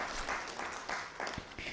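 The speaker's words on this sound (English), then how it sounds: "Please give her a round of applause as she approaches the podium" Conference audience applause at a cybersecurity event as a speaker walks to the podium: quiet, fairly distant clapping from a crowd, steady but soft, with a few low thumps.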